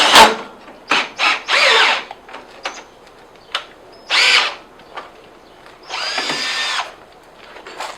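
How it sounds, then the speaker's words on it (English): A power drill whirs in repeated short bursts, spinning a 15mm socket during a Ford Focus rear shock replacement, with pauses between each run, loud and close with no talking. "I'm going to use this 15mm socket with the drill and show you how quick it can go."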